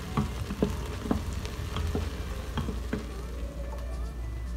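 Chopped chives and bacon frying in a pan for lentils, a steady close sizzle with scattered small pops and stirring ticks.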